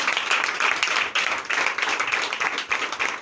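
A church congregation claps in acclamation during a Sunday worship service in Benin, dense overlapping applause from many hands, loud and sustained with slight swells.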